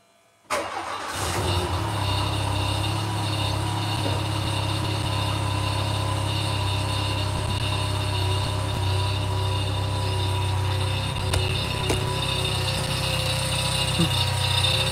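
A worn car engine with two bad V-belts cranks into life after a brief silence, then runs at a steady, rough idle with faint rattling and clicks layered over the hum.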